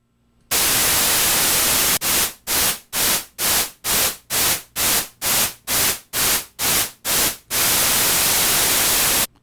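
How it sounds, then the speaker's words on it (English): Loud static-like white noise runs steadily, then a tremolo effect from a guitar pedal model in the Native Instruments Guitar Rig plugin chops it into a regular pulsing on-off rhythm of about a dozen beats before the noise returns to steady. "It has the model of a guitar pedal in here that would accomplish this tremolo effect."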